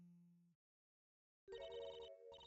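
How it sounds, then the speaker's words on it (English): A phone rings in two clear electronic bursts separated by a short silence, a faint tone fading just before them, with no talk. "Oops, sorry, that's my phone."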